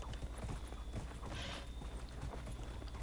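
Horse hooves clip-clop steadily in the Dragon Age Inquisition video game, a continuous rhythmic trot over a dense background of game ambience.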